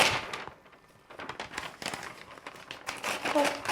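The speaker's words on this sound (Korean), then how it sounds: "이런 건 칼로 찢어 태워버려야 돼" Paper crumpling and tearing in a dramatized scene of a scroll being ripped with a knife, a busy crackling rustle that swells and recedes over several seconds, with voices faintly beneath.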